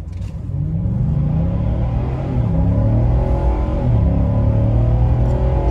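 A Nissan Titan XD V8 pickup truck accelerates hard, its engine rumbling loudly and rising in pitch through a gear change, heard close from inside the cab.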